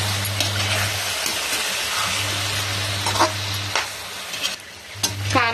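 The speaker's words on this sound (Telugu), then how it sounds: "కారం అంతా కలిసేలాగా కలుపుతున్నాను." Chili powder being stirred into a frying drumstick curry in a pan: a steady sizzle with spoon scrapes and soft clinks close by, over a low hum that drops out briefly.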